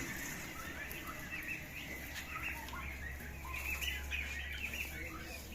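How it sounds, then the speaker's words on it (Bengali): Chickens and turkeys feeding on grass in a rural poultry yard, with soft clucking and scattered calls over a steady low hum, moderately faint and continuous. "সকল মুরগি ঘাস খাচ্ছে"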